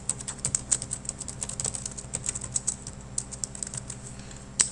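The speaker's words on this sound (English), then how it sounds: "So you're just going to simply type in your contact information." Contact information being typed on a computer keyboard: a quick, irregular run of close, light key clicks with small pauses, with no talking.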